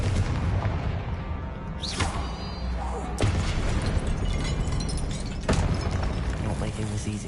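Spells boom and burst in combat in the Hogwarts Legacy video game, ending in a Confringo explosion spell amid dense, loud game effects and a voice calling out spell names.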